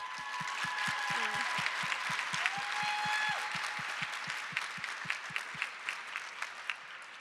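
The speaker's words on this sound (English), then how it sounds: "So big round of applause for these guys." Crowd applause at an outdoor fan fest sending off Olympic and Paralympic athletes, steady and broad, with a regular low thumping beat and faint tones running underneath as the clapping thins toward the end.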